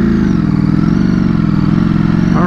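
A 2020 Ducati Streetfighter V4 with an ECU flash tune pulls hard from about 40 mph, its engine a loud, close, continuous buzzing drone with a rising pitch near the end.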